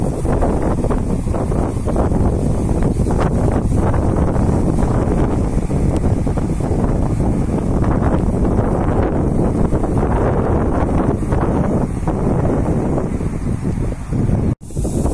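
Strong wind gusts across open Japanese rice fields, a loud continuous roar buffeting the microphone throughout with no speech.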